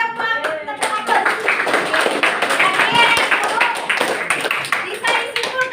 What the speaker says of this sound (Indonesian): Oke, bagus sekali, beri tepuk tangan.